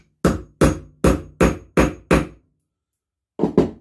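A hammer taps the middle out of a BSA engine petrol tap: six sharp metallic blows at an even, steady rhythm, then a pause of about a second and two more quick strikes, close and loud.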